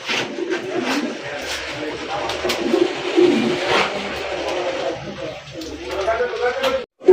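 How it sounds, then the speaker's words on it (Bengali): Polish Lynx pigeons coo close by in a repeated, low, throaty rhythm under steady talking from a seller at a pigeon market. "দেখেন পলিশ লাইনেক্স কবুতর খুবই সুন্দর মাশাআল্লাহ"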